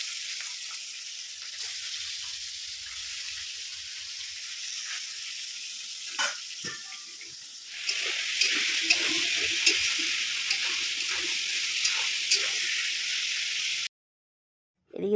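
Fish pieces sizzle steadily in hot oil in a pan, with scrapes and clinks of stirring. The frying grows louder and more crackly partway through before cutting to a brief silence.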